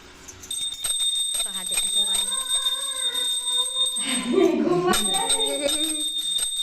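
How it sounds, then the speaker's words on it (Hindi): A temple bell rings with a sustained, shimmering tone over several seconds while voices talk nearby. "जाओ घंटी बजाओ"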